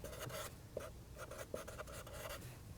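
Marker or pen writing on a board during a neuroscience presentation: quiet, close scratchy strokes in short bursts, with tiny taps where the tip meets the surface and no talking.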